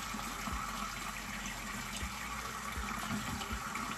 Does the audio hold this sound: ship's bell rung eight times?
no